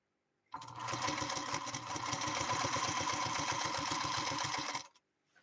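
A 1952 Singer Featherweight sewing machine runs through layers of parchment paper in one steady burst of rapid needle pulses lasting about four seconds, then stops abruptly. It is close and alone, with quiet before and after.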